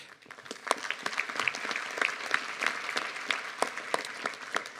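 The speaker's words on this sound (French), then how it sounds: "je vous demande de les applaudir également" Audience applause at a New Year's civic greeting to residents, a quiet, sparse patter of individual claps from a modest crowd, steady and somewhat distant.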